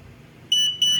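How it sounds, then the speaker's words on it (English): An 8-channel kitchen timer alarm sounds two loud, shrill electronic beeps, close and evenly spaced, alone in a quiet room. "another alarm will go off at 30 seconds"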